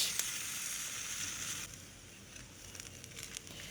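A bird coated with a spice mix roasting over an open fire outdoors, giving a steady close sizzle and hiss with faint crackles, slightly quieter in the second half.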